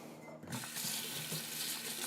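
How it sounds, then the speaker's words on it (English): Running tap water rinses a pot in a kitchen sink. It is a steady, close rush of water that swells after a brief start and continues alone. "let's rinse this"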